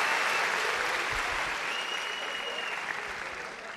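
A talent show audience on Yetenek Sizsiniz Türkiye gives a standing ovation, with loud, dense, continuous applause that fills the whole stretch and fades slightly toward the end.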